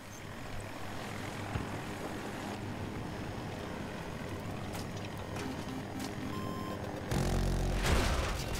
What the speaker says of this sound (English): we have an enemy attack heli over B1 and B2 right now